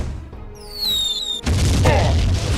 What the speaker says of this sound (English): Gumpy can mortar people.